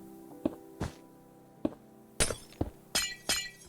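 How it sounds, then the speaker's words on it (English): Glass blocks shatter in Minecraft in a quick series of about eight sharp, crisp breaks with tinkling tails, spaced irregularly over a few seconds against a quiet background. "I also like the sound of the glass breaking."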